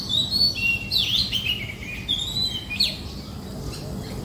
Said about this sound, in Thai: บนต้นไม้ก็มีเสียงนก